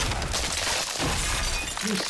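A White Walker shatters into pieces in a Game of Thrones scene, a loud, sharp icy crash that fills the moment.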